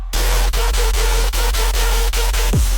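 A loud, sustained white noise sweep fills an EDM festival trap track, a dense hiss cut by rhythmic dips like pulsing beats before a final low downward swoop near the end.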